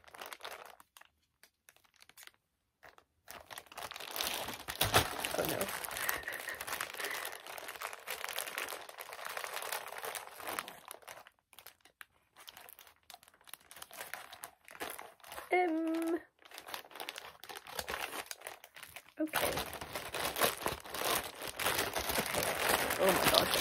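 Plastic packaging around a body pillow crinkles and tears as it is cut open, with intermittent rustling and crunching bursts close by, interrupted by brief pauses.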